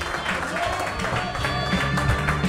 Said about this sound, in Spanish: Fuerte el aplauso para Marce Gómez